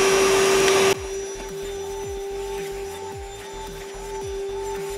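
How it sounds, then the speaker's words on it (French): A Ryobi R18PV cordless vacuum cleaner whines loudly, then drops to a lower steady hum as small debris clicks and rattles through it in quick bursts. "Et on va aspirer ça."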